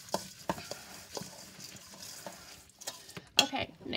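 Meat-free golden seasoning broth is briskly mixed for a vegetarian meatloaf, with quick rhythmic scraping and clinking of a utensil against a bowl, ending in a louder clatter, close and without voices.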